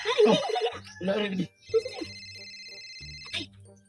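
A mobile phone rings with a steady electronic tone pattern, repeating between bursts of nearby conversational speech that talks over it.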